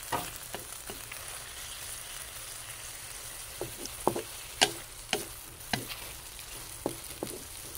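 Squid and shrimp adobo sizzles softly in a pan while a utensil stirs and scrapes it, giving irregular sharp clicks and taps over a quiet, steady frying hiss, with no voices.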